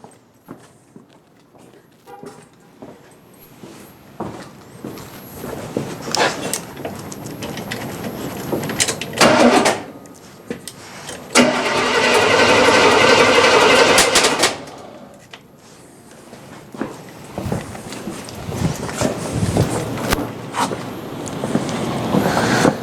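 A car engine being revived after sitting is cranked by its starter in a loud, continuous burst lasting about three seconds without catching, surrounded by scattered clanks and shuffling in the engine bay.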